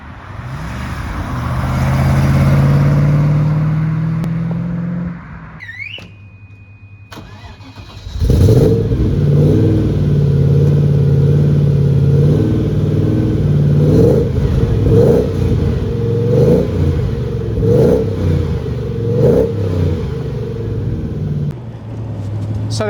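A 1990s British V8 sports car, a TVR Chimaera or Marcos Mantara, rumbles loudly up close, revs, drops away, then restarts and pulls strongly through repeated gear changes with rising and falling engine note.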